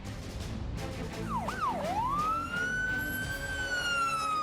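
A fire engine siren wails at a forest fire, sweeping up and down in pitch before settling into a long rising tone, loud and continuous over a steady rumble of engine and background noise.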